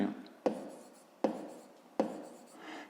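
Handwriting on paper, heard close and quiet as a soft rasping scratch with a few sharp tap-like strokes spaced about three-quarters of a second apart.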